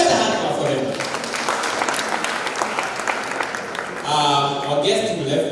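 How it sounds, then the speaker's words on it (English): Applause for schoolchildren and teachers at a primary school meeting, a crowd clapping steadily and loudly from start to finish in a hall, swelling a little near the end. "A better hand clap for them."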